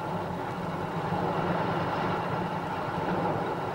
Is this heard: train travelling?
yes